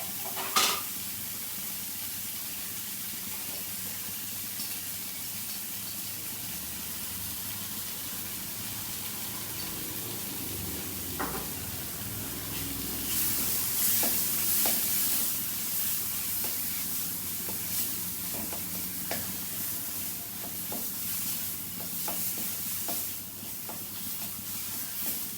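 A sweet potato paratha filling with spices fries in a pan, giving a continuous soft sizzle and hiss with intermittent scraping stirs, close and steady.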